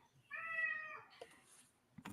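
A pet cat lets out one clear, tonal meow close to the microphone, followed by a few faint clicks and rustles in an otherwise quiet room.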